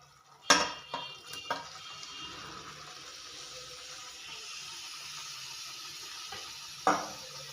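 Dry spices and vajri, a goat tripe dish, being stirred in a pan: a few sharp metal clinks and scrapes near the start and one near the end, with a faint low sizzle in between. Nobody speaks.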